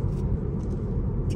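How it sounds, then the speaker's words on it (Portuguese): Tyre and wheel rolling noise inside a Tesla Model 3 electric car, a steady low road rumble with no engine sound, heard continuously and fairly close for a moment. "A única coisa que nós sentimos aqui é o rolar dos pneus, o rolar das rodas."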